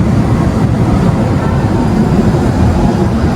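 Purwojaya train being shunted forward toward the south, a steady low rumble of rolling rail stock, loud and continuous from nearby with no voices.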